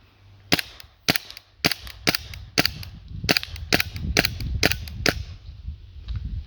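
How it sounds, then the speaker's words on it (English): Shots from a KWC P08 Luger air pistol fired at targets, a run of about ten sharp, close cracks at a steady pace, the later ones with a faint rattle and knock after each shot. "firing at the middle target a few more times"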